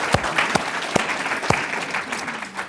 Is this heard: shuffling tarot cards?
no